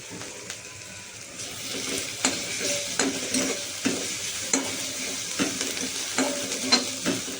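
Puris frying in hot oil give a lively, bubbling sizzle punctuated by repeated stirring or flipping knocks at a roughly regular pace, loud and close.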